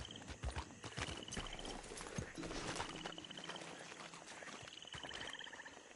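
Horse hooves clip-clopping in the Red Dead Redemption 2 video game, a steady walking rhythm of close hoof hits over game ambience, with a faint whinny and a high repeating tone in the background.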